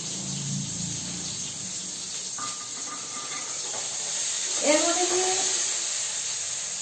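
Tomato and chopped onion sizzle with salt in a frying pan, a steady close hiss running throughout while a person speaks briefly over it.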